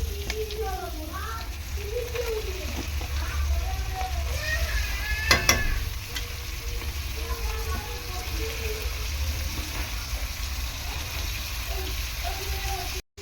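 Spice paste and lote fish fry in a pan with potatoes, a steady close sizzle and scraping stir strokes running throughout, with some bird or background chirps faintly above.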